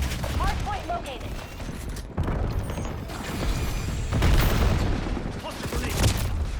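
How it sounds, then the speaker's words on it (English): Explosive blasts and gunfire from a cluster grenade in the Black Ops 7 beta, a hardpoint match, with bursts of loud noisy booms layered under announcer voice lines and continuous battle noise. "Cluster grenade."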